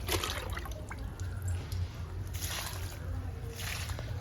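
Liquid is poured onto indoor potted plants, a soft steady trickle and splash that runs low and continuous for a few seconds.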